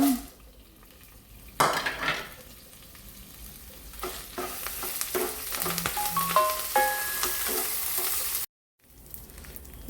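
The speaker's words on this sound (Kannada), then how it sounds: "ನಾವು ತೆಗೆದಿಟ್ಟ ಮಸಾಲೆಯನ್ನು ಸಿಮ್ಮಲ್ಲಿಟ್ಟು ಲೈಟಾಗಿ ಹುರಿದುಕೊಂಡು ಬರುವ" Masala spices roasting on a low flame in a pan, with steady soft sizzling, a stir and scrape of a utensil against the pan, and light clinks of cookware, close and continuous.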